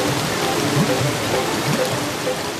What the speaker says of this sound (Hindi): ये आवाज कैसी है? हम झरने की तरफ बढ़ रहे हैं।